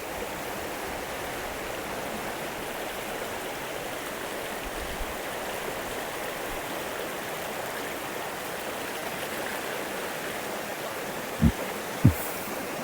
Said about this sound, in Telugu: చూడొచ్చు వాటర్ ఫ్లో.